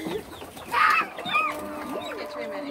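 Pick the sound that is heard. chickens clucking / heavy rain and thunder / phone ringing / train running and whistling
chickens clucking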